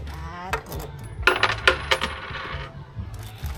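Coins drop into a slot to buy bags of fish food at a fish-feeding spot in Photharam, Ratchaburi, Thailand, making several quick metallic clinks close by over a low background hum.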